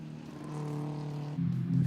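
Historic race cars, including two Chevrolets, cross a start-finish line together, their engines a steady close drone that swells louder near the end.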